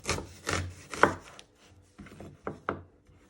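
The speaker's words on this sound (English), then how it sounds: "With the half onion you've got left, you want to chop the end off." A knife chops the end off a half onion on a board: several crisp, close cuts come in an uneven rhythm, with short pauses between the strokes and no voices.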